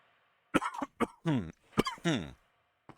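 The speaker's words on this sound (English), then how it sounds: "Oh, excuse my cough." A man coughs several times in quick succession, close and fairly loud, in harsh bursts followed by a short throat clear near the end.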